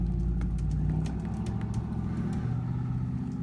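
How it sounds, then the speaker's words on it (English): Noisy cars rumble past in a residential neighborhood, a steady low engine drone with some mid-range engine tone, continuous and moderately close, with no talking. "I love the noisy cars in my dang neighborhood."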